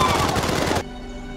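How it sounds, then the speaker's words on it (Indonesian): Rapid machine-gun fire rattles in a dense burst in an action film about a plane crash landing in terrorist territory, then stops abruptly, leaving a quieter tail. "seorang penumpang yang berusaha melarikan diri harus tewas, terkena tembakan"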